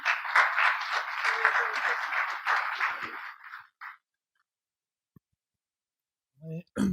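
Audience applause at a hemp industry congress, a few seconds of clapping that fades out into near silence, with a voice briefly speaking at the end.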